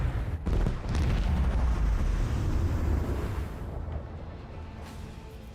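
Spaceship weapons open fire in Warhammer 40,000: Rogue Trader space combat: a dense barrage of deep, rolling artillery-like booms and rumbling explosions sustains loudly for several seconds before gradually easing off.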